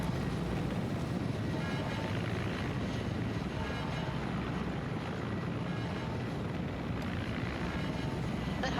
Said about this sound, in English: Is that helicopter coming in for a landing?